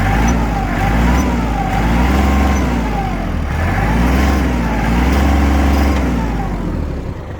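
A Kubota GL25 Japanese 25 hp mini tractor engine runs steadily and loud up close, with a continuous low diesel drone and a slow, rhythmic rise and fall in pitch.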